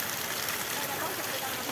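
Rain comes down on a roadside during the season's first shower, a constant broadband patter nearby that stays level throughout, with possible faint voices underneath.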